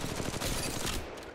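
Rapid gunfire in the mobile shooter game Apex Legends Mobile, a dense burst of loud shots fired in quick succession that tapers off at the end.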